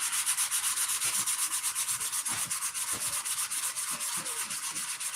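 Steady back-and-forth sanding, a rhythmic rasping rub of abrasive paper strokes repeating about every fifth of a second, close and fairly loud with no talking.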